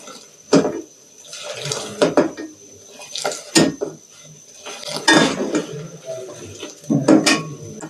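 Kashmiri tea mixture with salt is whisked in a metal vessel: irregular bursts of close clinking and scraping, separated by brief quiet gaps.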